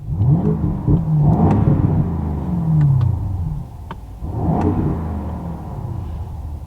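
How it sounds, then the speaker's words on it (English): A 2022 BMW Alpina B7 xDrive engine revs loudly in sport mode, with deep exhaust burbles rising and falling in two surges, close by and with no talking. "going into the sport mode, it adds a little bit cooler look"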